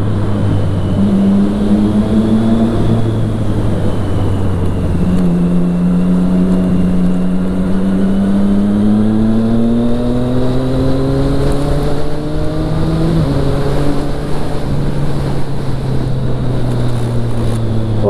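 A Triumph Street Triple 675R motorcycle engine drones steadily while riding, its pitch rising and falling as the rider shifts through gears, with no voices.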